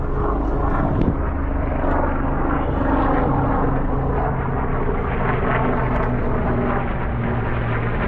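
Helicopter rotor and engine noise near a helipad on the Manhattan waterfront, a loud, steady rumbling drone that continues throughout with little change in level.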